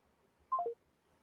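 A phone keypad gives three quick dialing tones in a row, faint and alone against near silence.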